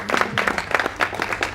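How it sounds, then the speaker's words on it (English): Audience applause fills a Tu B'Shvat seder musical gathering, a steady wash of many hands clapping at close range with irregular bursts, no voices over it. "Let's get a big round of applause now already."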